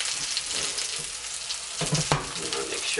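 Steady, close sizzling of haddock frying in olive oil in a pan, with a few brief clatters of stirring near the end.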